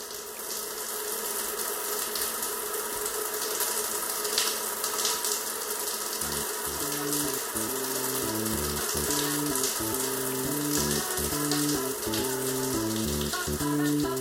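A shower runs with a constant hissing spray of water, steady and close, while a music bed plays beneath it.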